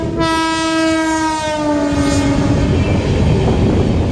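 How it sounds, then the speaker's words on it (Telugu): The Tirupati-Visakhapatnam special train passes near Anaparthi station, its horn sounding loud and close before fading, followed by a steady rumble and rattle of the passing coaches. "తిరుపతి, విశాఖపట్నం స్పెషల్ ట్రైన్ వెళ్తుంది"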